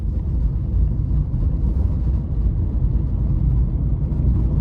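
Steady low engine hum of a manual car cruising in third gear, continuous and fairly loud with road and wind rumble, no voices.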